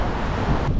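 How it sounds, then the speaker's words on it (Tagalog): Strong wind roars and buffets the microphone in a brief, dense gust in New Zealand, with no voices. "Ayan, ang lakas ng hangin"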